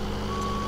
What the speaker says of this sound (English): I'm gonna get this truck backed in.